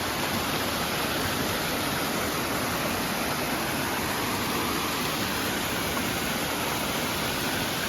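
A staircase waterfall gives a steady, even rush of falling water pouring continuously at moderate level in a mountain national park, with no other sounds standing out.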